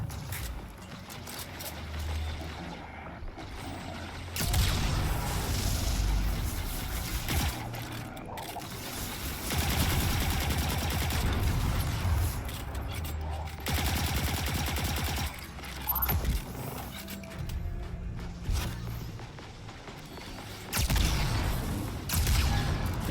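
Rapid, sustained gunfire from an anti-barrier weapon in the video game Destiny 2, set in a Legend difficulty Lost Sector, comes in long bursts with short pauses and mechanical clatter, loud throughout.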